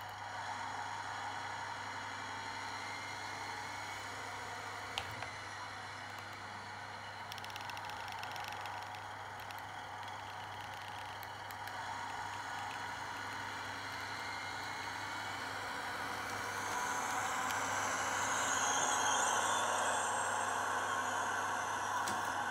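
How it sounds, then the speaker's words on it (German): A digital sound decoder fitted to a LIMA model of the DSB MR 4051 diesel railcar plays a steady idling diesel engine, a continuous mid-pitched hum with faint hiss that swells slightly toward the end, with no talking. "So, jetzt haben wir Betriebsgeräusch,"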